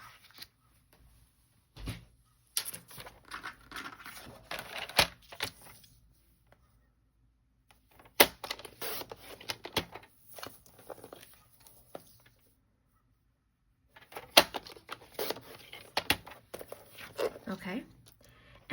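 White paper for a handmade card is cut in bursts of crisp slicing and rustling, with quiet pauses between, soft and close.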